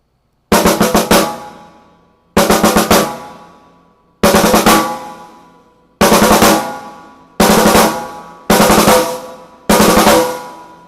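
Drum sticks striking a drum in an open-stroke five-stroke roll, seven separate loud bursts of rapid hits, each ringing out and decaying before the next, with no voices.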